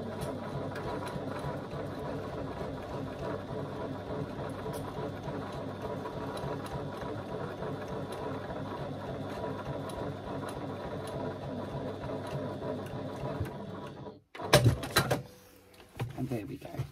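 A sewing machine stitches around the top of a piece at a steady rapid whir for about fourteen seconds, close and fairly quiet, then stops and is followed by brief handling clatter.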